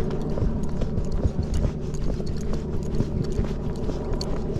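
Hoofbeats of a pacey Tennessee Walking Horse ridden in gait, a steady, close, rhythmic clip-clop that continues throughout with no talking.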